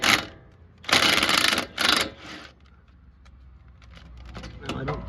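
A 1/2-inch impact gun with a swivel head loosens the upper control arm nut on a Toyota 4Runner with KDSS in a home garage. It gives a few loud, close rattling bursts separated by pauses.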